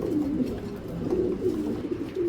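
A racer pigeon coos continuously nearby, low throaty rolling calls repeating in a steady rhythm, with no speech.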